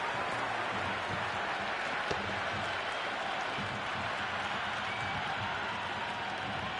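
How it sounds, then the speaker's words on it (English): A packed stadium crowd at a Pakistan versus India one-day international cricket match in Rawalpindi roars and buzzes continuously from the stands, a dense, loud wash of cheering with scattered claps. "There's a buzz, a real buzz coming from the stands."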